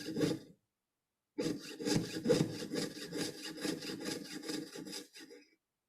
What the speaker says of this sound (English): it should make this kind of just nice, natural sawing sound.